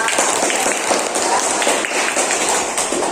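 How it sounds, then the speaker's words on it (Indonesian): Students in an Indonesian-language classroom clap together after correct answers, a loud, busy burst of applause with some voices mixed in, sustained for a few seconds. "Tepuk tangan."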